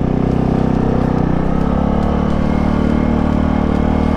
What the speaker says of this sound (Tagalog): Marami ng motor eh.